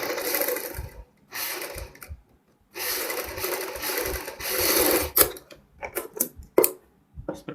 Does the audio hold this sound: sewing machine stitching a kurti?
yes